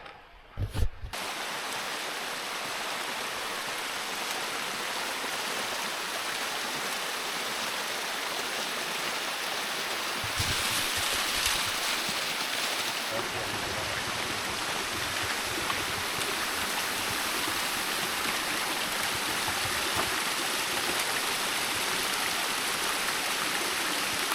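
A small mountain stream on a hike down from Oo: a soft, steady trickle and rush of water, fairly faint and continuous, with a brief knock near the start and a slightly louder stretch midway, no talking.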